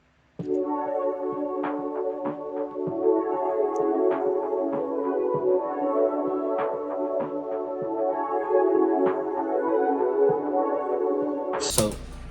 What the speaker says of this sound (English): So moving on, we got this pad from Expand.